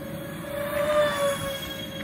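A Dynam Turbojet 550 RC model jet, styled as a Cessna Citation II, makes a high-speed pass overhead, its thin whining tone swelling and fading over about two seconds at moderate distance.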